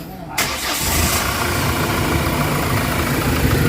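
Hyundai H100 diesel engine cranking and catching after a short quiet moment, then settling into a loud, steady close-up idle.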